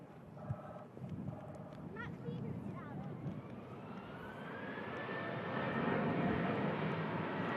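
A Ryanair Boeing 737 arriving from Valencia lands at Manchester Airport, its jet roar building steadily and growing louder toward the end, with voices talking over the start.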